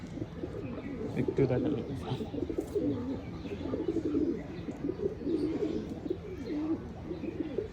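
Pigeons, including young ones being bathed, cooing softly in low repeated throaty murmurs with a few chirps, close by, under intermittent talking.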